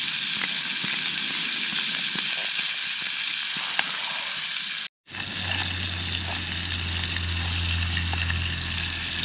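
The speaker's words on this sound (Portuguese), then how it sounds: "Frita, linguiça." Linguiça sausage frying in hot oil gives a steady, loud, close sizzle that cuts out briefly midway, then resumes with a low hum beneath it.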